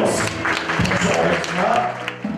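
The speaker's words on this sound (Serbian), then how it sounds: "jedan aplauz za Đole, molim vas" An audience claps for a child at a children's fashion show, a short burst of applause partly masked by someone talking loudly over it.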